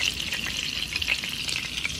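Stuffed chicken seasoned with adobo, garlic salt and all-purpose seasoning fries in a pan, giving a steady, close crackling sizzle with faint pops.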